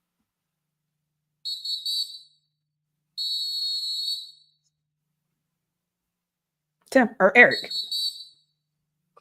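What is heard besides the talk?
whistle blowing repeatedly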